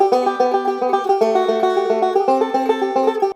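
Banjo picking a rolling exercise with steady, even plucked notes repeating in a bright, continuous pattern, played alone at close range with no talking.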